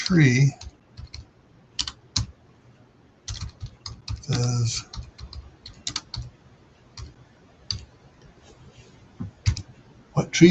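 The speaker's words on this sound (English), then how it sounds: "that's what you were typing in there" A computer keyboard is typed on in short, irregular bursts of close, crisp key clicks, with pauses between runs and people talking briefly at the start and end.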